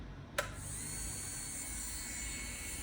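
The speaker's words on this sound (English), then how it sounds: "So with my carbide bit on my electric file, I'm going to switch it on." Electric nail file with a carbide bit switches on with a sharp click, then holds a steady high-pitched motorised whine for several seconds, close and alone with no talk.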